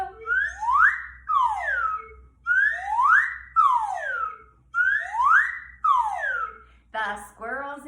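Someone whistles in imitation of squirrels in a tree, repeating bright, swooping rising-and-falling phrases in three paired cycles, then a brief voice.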